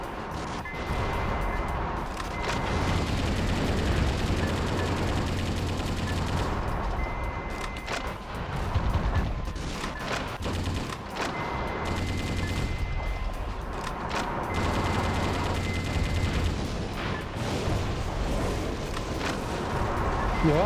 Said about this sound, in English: I just heard an explosion